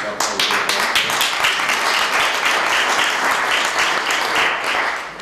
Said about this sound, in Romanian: eu cred că merită aplauze